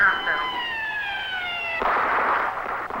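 An emergency siren wails with a steady descending tone that breaks off partway, followed by a rush of wind-like noise, loud and near.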